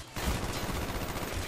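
Rapid gunfire from a Call of Duty: Black Ops match on PC, a dense, continuous burst of shots lasting over a second, loud and close with no speech over it.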